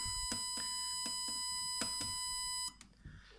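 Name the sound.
Arduino home security alarm keypad beeps while entering password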